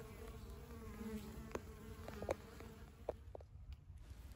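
Honey bees buzz around their hives as they bring in pollen, a faint, continuous hum with individual insects zipping past the microphone now and then.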